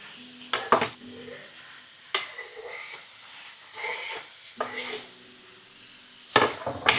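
Onion tipped into a hot pan sizzles while a utensil scrapes and knocks against the metal in a few separate bursts of stirring, close and moderately loud, with no talk.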